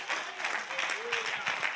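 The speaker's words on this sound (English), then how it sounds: "Somebody clap your hand and give God a praise." Church congregation clapping together in a steady, dense wash of applause, with voices and a speaker talking over it.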